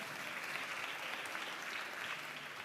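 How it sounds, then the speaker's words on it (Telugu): An audience claps steadily and evenly for a few seconds, the dense applause heard from a distance at a public talk, with no voices. "చప్పట్లు కొట్టారు కదా"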